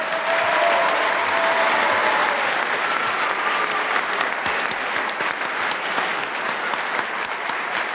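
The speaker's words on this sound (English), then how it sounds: "how about a big round of applause for two fine professional wrestlers?" A crowd at a professional wrestling bout, Steve Grey against Ironfist Clive Myers, applauds the two wrestlers with dense, continuous clapping at a steady level, with faint crowd murmur underneath.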